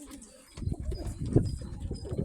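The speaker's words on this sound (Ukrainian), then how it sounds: "От такий голубок, чисто білохвостий." A white-tailed pigeon of the Krymaky breed coos up close in soft, throaty, repeated phrases over faint background noise.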